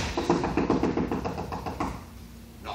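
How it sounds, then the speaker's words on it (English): Knocking sound effect at a stage play rehearsal: a quick series of about a dozen repeated knocks on wood, fairly close and moderately loud, fading into quiet room tone. "Knocking? Upstairs?"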